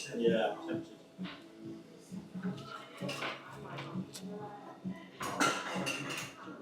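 Knife and fork clink and scrape on a plate while cutting into a crispy parmesan-coated arancini rice ball with bolognese filling in a restaurant. The sharp taps come intermittently beneath continuous conversational talk.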